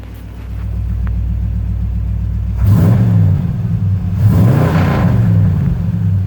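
A 1971 Ford F250 Camper Special pickup rumbles steadily at close range. Its low engine drone swells twice as it revs, and no one speaks over it.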